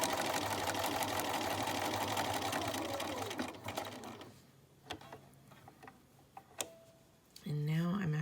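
A sewing machine stitches a fabric scrap patch in a steady, fast run that slows and stops, followed by quiet handling clicks and a brief voice at the end.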